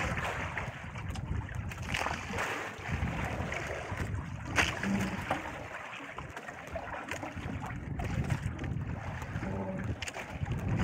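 Strong wind rushes steadily across the microphone, a broad low roar with occasional gusts and no voices.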